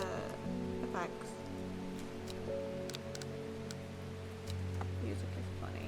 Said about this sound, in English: Okay, so the rain is the effects.